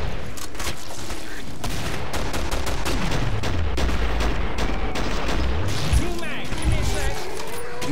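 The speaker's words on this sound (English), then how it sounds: "Shooting them mid jump." Rapid, dense gunfire from the video game Killing Floor: overlapping shots and bursts crackle without pause for the full stretch, loud and close, with a low rumble swelling underneath.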